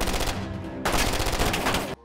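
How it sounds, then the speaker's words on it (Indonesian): Gunfire in an action film as a security team shoots at a man running toward a beach: rapid automatic bursts, loud and close, with a brief pause before a second dense volley that stops abruptly. "Tim keamanan Sultan Minyak itu melepaskan tembakan ke arah Cruz yang sedang berlari menuju pantai."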